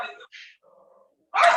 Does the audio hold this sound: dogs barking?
yes